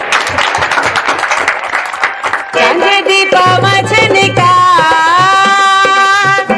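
Comedy show audience applauding a singer, a dense burst of clapping that soon gives way to music with sustained tones and a steady beat.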